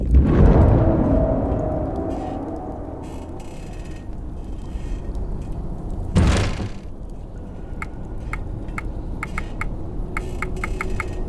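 A door opens in the dungeon-crawler game Cryptmaster, starting with a heavy, rumbling swell that fades, then a sharp thud midway, followed by a series of faint, evenly spaced mechanical clicks.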